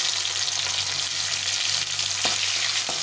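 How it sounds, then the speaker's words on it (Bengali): Chopped tomato fries in ghee with tempered whole spices. A steady, loud sizzle runs throughout, and a couple of brief stirring scrapes cut through near the end. "এখন দিয়ে দেবো একটু টমেটো, একটা টমেটো কেটে রেখেছিলাম"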